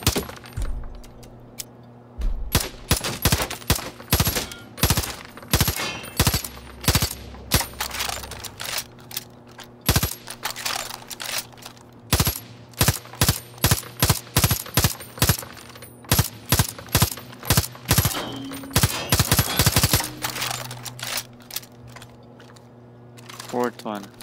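Elite weapon in Far Cry New Dawn firing piercing ammo, dozens of loud, sharp shots in uneven bursts and single fire, with rattling casings and a steady low in-game hum beneath.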